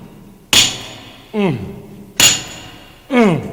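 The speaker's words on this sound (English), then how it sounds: "It begins with a hammer clanging and Johnny Cash going," In a Johnny Cash recording, a hammer clangs twice, with sharp metallic strikes ringing out, each followed by a grunting vocal groan, loud and close.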